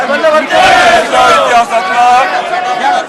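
Crowd of BJP MLAs in saffron turbans celebrating the announcement of Maratha reservation, a loud continuous mass of cheering and chanting voices filling the whole stretch with brief dips.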